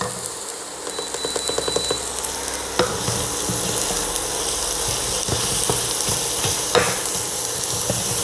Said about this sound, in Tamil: ரொம்ப கொலைய வதக்கணும்னு இல்லை தக்காளியெல்லாம்.